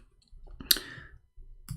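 Keys click on a computer keyboard while someone types, with sparse soft taps and one sharper clack, quiet and close, with no talking.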